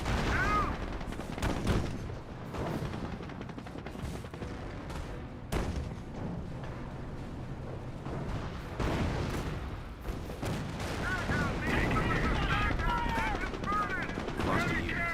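Explosive booms and rattling gunfire from incendiary mortar strikes in the World War II strategy game Company of Heroes, a continuous dense battle din of repeated impacts, with a voice talking over it in stretches.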